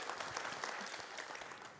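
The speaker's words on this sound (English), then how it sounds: "Round of applause for Thane." An audience at a Supreme Court year-in-review event gives a dense, continuous round of applause. It sounds steady and moderately loud throughout.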